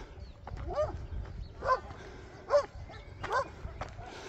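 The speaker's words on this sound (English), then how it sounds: "As you can see, lots of dogs." Several dogs bark outdoors in a loose rhythm, about four distinct barks spaced roughly a second apart, moderately close over low background noise.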